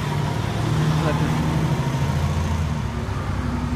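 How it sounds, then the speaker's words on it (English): Strike team of Los Angeles fire engines idling at a wildfire incident in Sonoma County, a steady low diesel rumble heard up close and fairly loud, with a voice talking over it. "There's a strike team of Los Angeles fire engines that have driven down from Los Angeles to help out with the incident."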